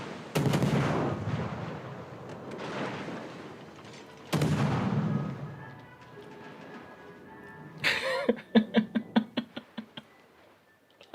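Warship turret guns firing in World of Warships: Legends, with two heavy booming salvos followed by a sharp blast and a rapid run of staccato gunshots fading out.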